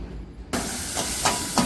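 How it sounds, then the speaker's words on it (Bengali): Spice paste and tomatoes sauté in a hot pan, a sudden burst of loud, steady hissing sizzle that starts partway in, with a few brief scraping strokes breaking through. "এদিকে মশলাটা ভালোই কষা হচ্ছে, টমেটোটা প্রায় ভাজা ভাজা হয়ে এসেছে"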